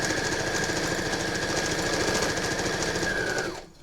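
A sewing machine runs at a fast, steady chatter stitching a T-shirt quilt, loud and close for a few seconds before stopping abruptly at the end.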